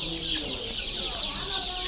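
Desi hens clucking steadily at close range in a poultry yard, a dense continuous chorus of overlapping clucks with no pauses.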